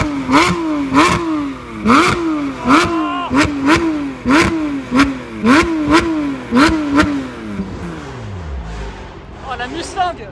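Ford Mustang and Dodge muscle car engines revving hard in a series of about a dozen sharp, close throttle blips, each rising and falling, then dropping to a low idle rumble, with excited voices mixed in.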